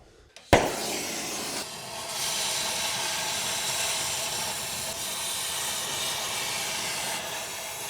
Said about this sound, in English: so let's just torch the caliper.